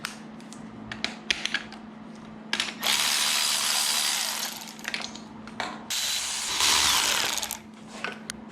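A ratchet loosens valve cover bolts on an LY6 engine, with quick clicking runs and clacks, then two longer whirring, grinding stretches, close and moderately loud in a quiet garage.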